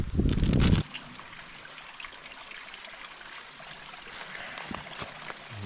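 A small spring trickles and gurgles in a quiet, secluded outdoor spot, a soft continuous flow after a short loud rustle at the start.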